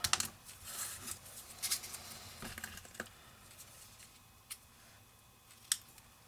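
Scissors snip the small points off the sides of a paper easel card, giving a few quiet, close, crisp cuts spaced irregularly, with light handling rustle between them.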